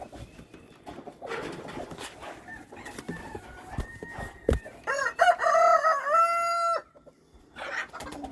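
Chickens cluck and a rooster crows loudly inside a chicken house, with scattered bird calls, knocks and rustling around a long, tonal crow in the second half.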